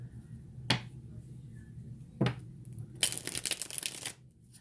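A deck of playing cards being shuffled indoors, with a few sharp riffle bursts and then a longer flurry of rapid card flutter near the end, close and moderately loud.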